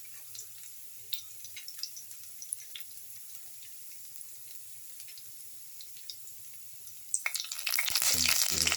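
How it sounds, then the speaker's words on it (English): Shallots, garlic and ginger fry in a pan with a faint, steady sizzle and occasional light clinks of stirring, swelling into a loud hissing burst near the end as more goes in. "Stir the ginger and the garlic together."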